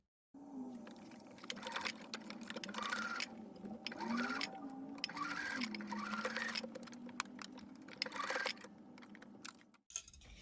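A sewing machine stitching a teddy bear runs in a fairly quiet, steady mechanical whir with repeated rhythmic ticks and bursts over about ten seconds, then stops abruptly, with no talk.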